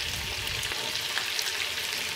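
Chicken fillet sizzles steadily in a hot pan with vegetables, a continuous close frying hiss with faint stirring and no talk.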